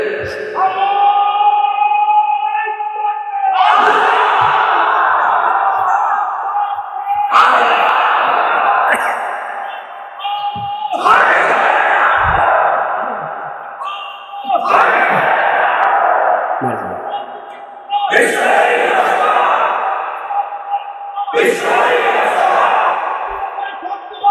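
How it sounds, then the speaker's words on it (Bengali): A large crowd at a Bangladeshi religious sermon (waz) shouts the Nara-e-Takbir slogan, loud massed voices roaring in repeated rhythmic bursts of a few seconds each, one after another throughout. "একজনের একটা নারায় তাকবীর দেন তো"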